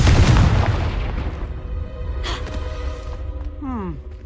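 A Confringo spell explosion in the Hogwarts Legacy video game: a loud, close booming blast that decays into a rumbling tail, followed by a fainter burst and a short descending magical whoosh.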